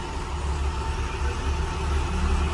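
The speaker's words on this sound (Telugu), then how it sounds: "మన బస్ అయితే లారీలను అయితే క్రాస్ చేస్తుంది." A bus travels on a highway between Varanasi and Ayodhya, slowly overtaking lorries. A loud, steady drone of engine and road rumble runs throughout, with no clear voices.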